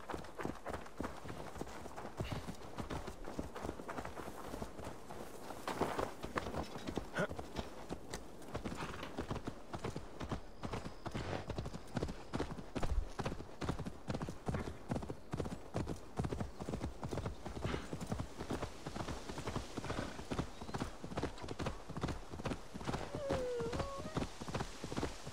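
Horse hooves clip-clop in steady, rapid rhythm in the video game Assassin's Creed Valhalla, a continuous close trotting beat lasting throughout with faint background sounds.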